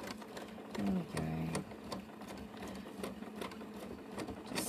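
A sewing machine stitches down pieces of a large tote bag, a steady close mechanical whirr with a rhythmic ticking pulse throughout and a couple of brief squeaky tones near the start.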